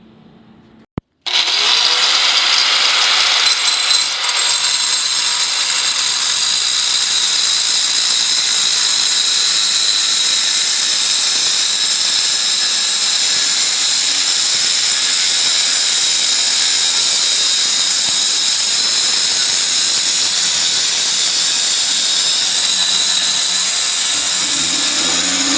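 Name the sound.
grinder with dry cut diamond wheel cutting cast iron pipe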